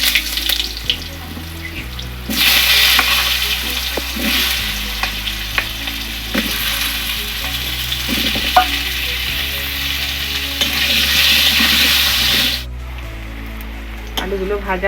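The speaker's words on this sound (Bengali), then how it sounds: "আলুটা ভেজে নেব" Potatoes frying in a wok-style pan of oil seasoned with salt and turmeric, a steady broad sizzle with occasional stirring scrapes, near and fairly loud, with a background hum and brief low-level voices.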